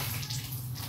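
Water runs steadily from a tap while laundry is washed by hand, a brief continuous splashing rush heard close up without voices.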